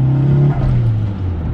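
Mitsubishi Evo with a 2.3L engine drones loud and close through its exhaust, a steady low tone that dips slightly in pitch over a brief moment.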